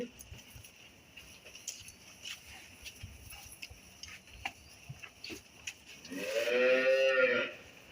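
A Holstein Friesian cow lets out one long, loud moo near the end, following several seconds of quiet outdoor background with scattered small knocks.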